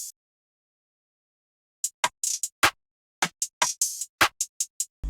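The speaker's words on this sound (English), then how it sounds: "Then I added the swag open hat" Swag open hi-hat sample in an FL Studio beat: bright, hissy hat hits in a syncopated pattern after a near-silent start, layered with clicky rim percussion.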